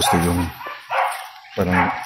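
A dog barks a couple of times nearby, the short barks standing out from the background.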